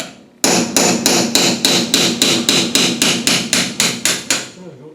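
Hammer blows strike a chisel to drive off the lock nut on an Adwest steering box during a rebuild, a steady series of about eleven loud, sharp metallic hits, close and evenly spaced, with no talk.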